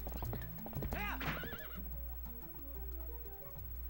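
Horse neighing and galloping in the video game Twilight Princess: a loud, shrill whinny rises and falls over steady clip-clopping hoofbeats, with a voice calling out briefly.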